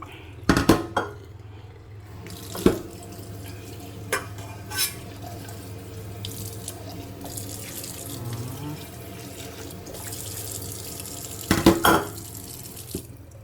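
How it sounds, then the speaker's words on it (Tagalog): Boiled pako fern being drained through a strainer, with splashing and pouring water, clattering pots and utensils, and a few sharp clanks near the start and end, in a quiet kitchen with no talking. "I-drain natin dito ang pako."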